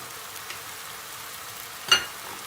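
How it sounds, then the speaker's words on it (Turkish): Peppers, onions, tomatoes and tomato paste for spaghetti sauce frying in a pan, a soft steady sizzle throughout with one brief clink of a utensil near the end, quiet and close. "Salçayla domatesleri, biberleri, soğanları iyice bir kavuracağız"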